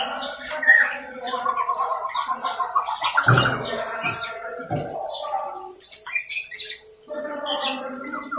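A green leafbird gives bright, varied chirps and whistled song phrases repeating throughout, fairly close and loud, with short pauses between bursts.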